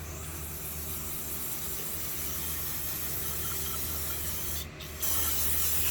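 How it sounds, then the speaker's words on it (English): Spray cleaner hissing steadily onto a Cub Cadet engine head, a close continuous aerosol rush with a brief gap near the end before it resumes slightly louder. "Spray that out again just in case you got some chunks in there."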